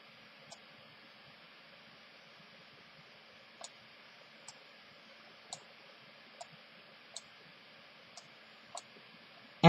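Computer mouse clicks sound as sharp, isolated taps in a quiet room during work in Silhouette Studio software, about eight spaced irregularly over several seconds with steady low hiss between them.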